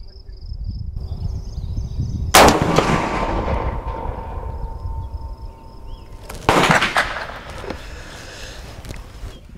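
Two loud, sharp 30-30 rifle shots ring out about four seconds apart at an outdoor target range, each followed by a decaying echo, with crickets chirping faintly in the background.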